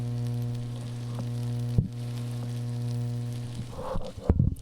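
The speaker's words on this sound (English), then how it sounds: "Oh, we're sizzling. You hear it? Sizzles." Bacon sizzles and fries in a pan with a steady, fine crackle over a constant electrical hum, with a sharp click partway through and clattering handling sounds near the end.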